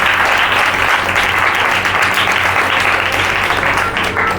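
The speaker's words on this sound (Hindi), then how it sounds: "जोर से प्रभु को ताली बजा के धन्यवाद देंगे" A church congregation in Haryana claps loudly and steadily in praise, dense sustained applause filling the room for several seconds.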